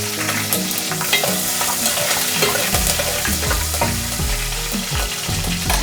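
Cumin seeds and green chilli pieces fry in hot oil with a loud, close crackling sizzle, and a spoon stirs through them in frequent scraping strokes.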